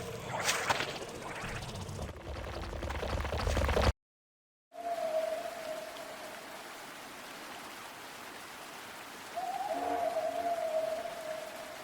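Constant rain in the Plaguemire of the game Mohrta, a steady hiss of falling water broken by a brief silent gap, with an eerie tonal drone and low rumble running beneath the later part.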